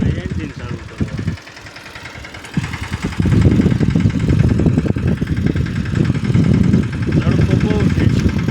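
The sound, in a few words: small engine running on mini block machine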